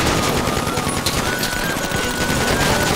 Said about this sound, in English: I shoot everything, bro.